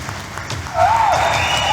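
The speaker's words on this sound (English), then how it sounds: "Round of applause." Audience at a book launch breaks into applause after the book is declared launched, a short burst that rises midway and stays fairly loud, with a faint tone over it.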